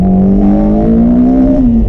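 Engine of a Honda Civic Type R DC5, fitted with a cleaned K&N air filter and NGK Iridium spark plugs, revs up steadily after a downshift, loud and close with a rising drone.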